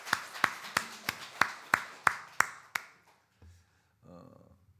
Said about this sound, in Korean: 우리 부활하신 하나님께 영광의 박수 한번 더 돌려드리겠습니다.